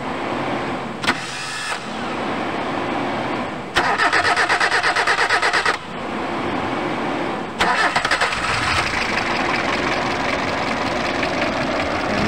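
A Kia sedan's starter cranks the engine in several separate loud, close bursts of rapid, rhythmic whirring and clicking, with short pauses between attempts and no talk over it.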